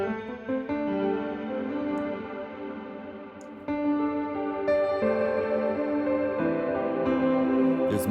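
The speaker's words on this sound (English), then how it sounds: "You can turn down the reverb, bring up the delay." Sustained piano chords ring out through a delay effect with the reverb turned down, each new chord striking cleanly while repeating echoes trail behind, steady and fairly loud with no voices.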